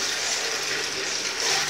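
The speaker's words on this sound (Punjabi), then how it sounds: "ਇਹਦੇ ਵਿੱਚ ਪਾਣੀ ਪਾਉਣ ਲੱਗੇ ਹਾਂ" Water poured steadily into a pot, a continuous close splashing gush filling the short moment with no talk.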